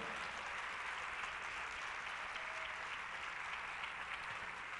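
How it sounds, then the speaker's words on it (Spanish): A church congregation claps steadily during a Spanish-language sermon, producing a continuous, uniform roar of applause that sounds distant and slightly muffled, with no clear voices on top. "Déselo fuerte ese aplauso al Señor."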